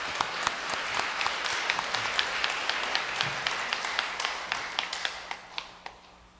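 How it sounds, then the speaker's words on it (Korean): A church congregation claps at an award ceremony for a Gospel-writing campaign, a dense round of applause that thins out toward the end into a few distinct, close individual claps. "다 같이 한번 박수 한번 치시죠."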